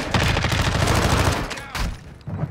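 Pistol gunfire in a video game cracks out as a dense, rapid volley for about a second and a half, followed by a few separate, sharper shots, all loud and close.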